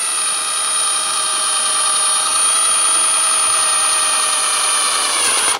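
An inexpensive step drill bit bores through material, a loud high-pitched whine from the spinning drill that holds steady for several seconds and then cuts off abruptly near the end.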